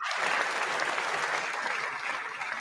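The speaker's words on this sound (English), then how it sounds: "Who the fuck is clapping?" Dense, sustained clapping from a large audience at a televised political event, steady and fairly loud from start to finish with no talk over it.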